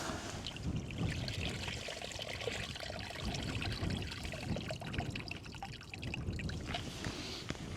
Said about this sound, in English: just give your worms a rinse, get off any excess mucus and sand